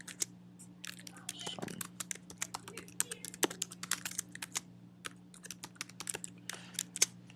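Rapid typing on a computer keyboard, a dense stream of close, crisp key clicks over a low electrical hum, no talking.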